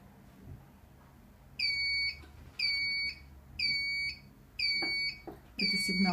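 In a quiet dental lab, an electronic alarm sounds five repeated shrill beeping tones, each lasting about half a second, spaced evenly and fairly loud over low room hum.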